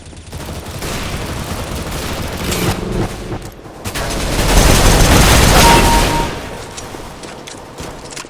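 Gunfire from the video game Counter-Strike: Global Offensive, bursts of rapid shots building to a loud dense volley in the middle before easing off, with game noise around it.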